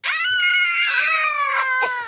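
A high-pitched voice imitates a shark puppet character screaming, one continuous shrill wavering squeal held for about two seconds, loud and close.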